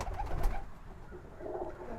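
Racing pigeons coo softly in a loft, a few low, close, gurgling calls with no talking.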